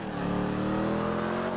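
A white car driving in a role-play video game, its engine revving steadily and loudly with a rising whine that holds for the whole moment, no talk over it.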